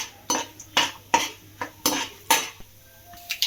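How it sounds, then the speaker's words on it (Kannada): Peanuts and chana dal stir-fried in a pan over a low flame, with a spoon scraping and knocking against the pan in a steady rhythm of close, sharp strokes and a soft sizzle underneath. "ಸೊ ಇದೆಲ್ಲ ಹಾಕಿದ ನಂತರ ಹಾಗೆ ಲೋ ಫ್ಲೇಮಲ್ಲಿ ಫ್ರೈ ಮಾಡ್ತಾ ಹೋಗಿ"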